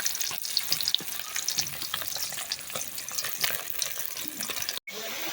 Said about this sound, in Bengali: এই যে আমার মাছটা তো ভাজা হয়ে গেছে